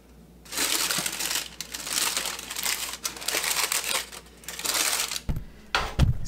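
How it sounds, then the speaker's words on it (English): Parchment paper crinkles loudly in bursts as it is smoothed down inside a pot over bread dough, close and crisp, with a couple of dull knocks near the end. "I'm getting this parchment smoothed out"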